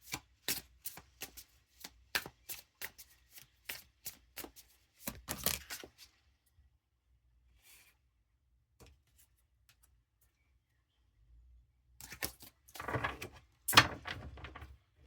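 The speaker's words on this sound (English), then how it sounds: "Hold the phone, I was shuffling the deck completely upside down." A deck of tarot cards is shuffled in a quick run of sharp, close riffles and taps, then a pause of near silence before a second burst of louder shuffling.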